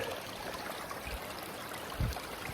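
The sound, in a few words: wading through a river in snowy winter conditions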